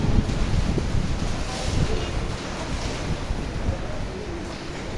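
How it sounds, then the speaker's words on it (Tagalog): Floodwater rushes through a low-lying area of Macau during a typhoon, a dense, continuous roaring wash mixed with wind buffeting the microphone, loud and unbroken throughout. "Ayan na, baha na oh."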